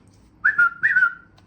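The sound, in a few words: whistle signal in prison segregation unit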